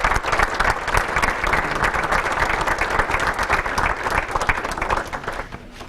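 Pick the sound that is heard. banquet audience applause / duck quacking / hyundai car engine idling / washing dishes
banquet audience applause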